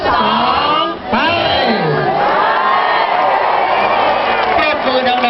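A large crowd at a New Year countdown at a meditation retreat cheers, whoops and claps loudly and continuously right after the countdown ends, with shouting voices throughout.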